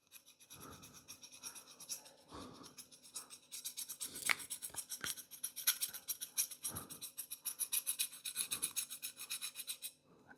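Fine rasping strokes as wax is scraped off an apple's skin come in repeated short bursts, close up and quiet, with no voices.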